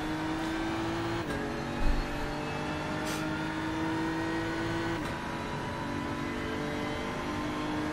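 TCR touring car engine in a racing game at the 12 Hours of Sebring, a steady drone with gear shifts stepping the pitch, moderately loud and continuous.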